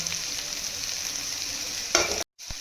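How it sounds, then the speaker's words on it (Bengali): Semolina upma with vegetables, turmeric and chilli powder stirred and fried in a pan over a high flame, a steady close sizzle with spoon scraping, a brief sharp clatter near the end. "দিয়ে হাই ফ্লেমে ভালো করে ভেজে নেব"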